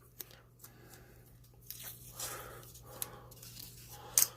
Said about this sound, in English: Now you're just going to put tape around it.